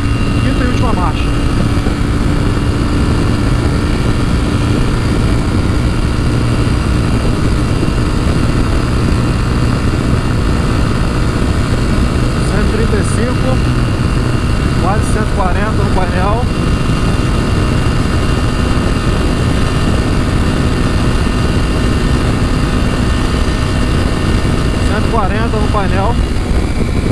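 Honda NX4 Falcon 2007 motorcycle running at speed in fifth and last gear, a loud steady engine drone mixed with rushing wind noise that fills the whole stretch, with brief faint voice fragments.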